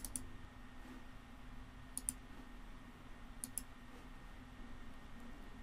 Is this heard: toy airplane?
no